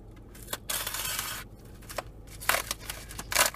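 A blade slices open a cardboard package in several short, close, scratchy cutting bursts separated by brief pauses, with a few small clicks between them.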